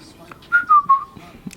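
A person whistles a short three-note falling tune, close and clear, with faint background noise.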